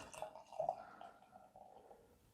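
Wet hop pale ale pours quietly into a glass, a soft, low trickle and gentle fizz with a few small drips, with no talking.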